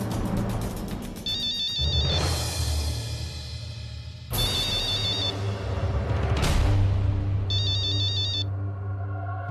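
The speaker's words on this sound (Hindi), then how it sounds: "अरे देख ले बिटवा किसका फोन है," A mobile phone ringtone repeats loudly in a Hindi TV drama scene, a bright electronic melody sounding in three or four bursts with short pauses, over a low, steady background bed.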